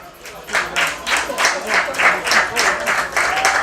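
Audience at a high school youth challenge claps in rhythmic unison for dance contest candidates, loud regular beats with crowd voices mixed underneath.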